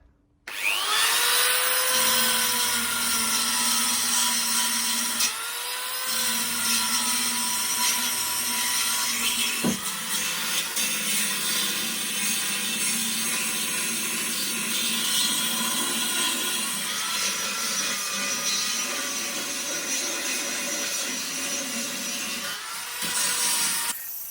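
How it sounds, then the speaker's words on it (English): Beveling bit on a power tool grinding into a crack in cast aluminium during weld prep, a loud continuous whining, rasping drone that runs almost unbroken, briefly dipping around five seconds. "I'll put a beveling piece on this just to widen up that crack a bit so I can get full peno."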